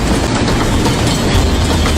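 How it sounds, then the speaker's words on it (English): Train sound effect played on a sports radio broadcast, a loud continuous rumble of rolling rail cars with steady clickety-clack, no voices over it. "Wow, that's a long train"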